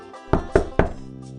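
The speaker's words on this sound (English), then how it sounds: "Moments later, Granny heard a knock at her door." Three firm knocks on a wooden door, evenly spaced and close, ringing briefly in a quiet room before fading.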